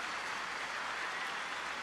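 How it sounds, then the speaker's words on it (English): Ole Miss football players clapping in support of an injured teammate during a 2013 college game against Auburn, a steady wash of applause mixed with stadium crowd noise, fairly even throughout. "You see the Ole Miss players clapping in support"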